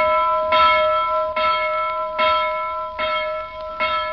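A town hall bell tolls five steady, evenly spaced strokes about every 0.8 seconds, each ringing on with a sustained metallic hum into the next, clear and alone with no voices.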